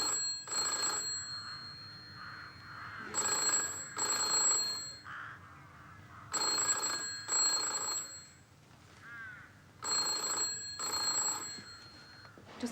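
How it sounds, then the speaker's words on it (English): A telephone rings in repeated double bursts, heard faintly through a handset, several rings with brief pauses between them. "It's ringing."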